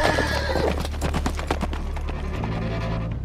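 Horses gallop in an anime, with loud rapid hoofbeats pounding close and a whinny rising above them, steady throughout.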